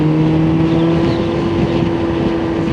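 Car engine droning steadily and close by on a road, a loud constant hum with a slight rise and fall, and no talk.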